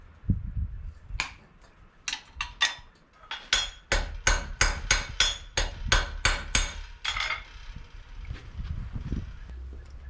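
A hammer peens over a copper rivet on a horseshoe during hoof restoration for a horse with laminitis, with a series of sharp, close metallic taps that speed into a quick, even run and then stop.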